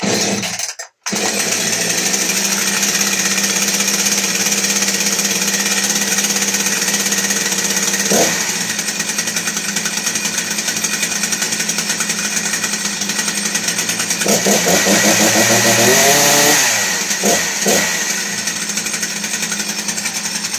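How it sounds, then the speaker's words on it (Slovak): A Husqvarna chainsaw engine runs continuously at a steady, loud rattle, close by, with a brief dip in pitch toward the end. "Treba tú pílu nechať klepať."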